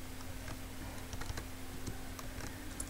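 Light clicks of a computer keyboard as a quadratic equation is typed in, scattered keystrokes tapping quietly over a steady low hum.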